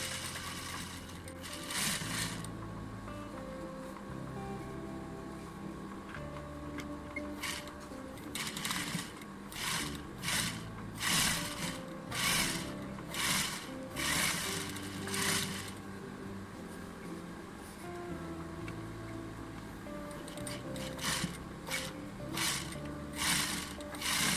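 Sewing machine stitching seams on a women's sack dress, running in repeated bursts of rapid mechanical chatter separated by short pauses, close and steady with no talk.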